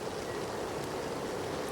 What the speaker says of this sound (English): Because that river is up really high. It's thundering.